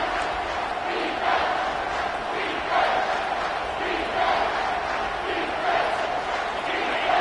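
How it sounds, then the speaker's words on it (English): A large stadium crowd at a college football game roars and cheers in rising surges, a loud sustained wash of voices with a commentator talking over it. "This crowd rising up, sensing that its defense needs some help."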